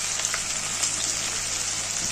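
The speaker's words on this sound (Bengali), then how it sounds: "কাশ্মীরি লঙ্কার গুঁড়ো দিয়ে মশলাটাকে ভালো করে কষিয়ে নেব" Spices sizzle steadily in hot oil with ginger, green chili and tomato, a close, even frying hiss that runs unbroken throughout.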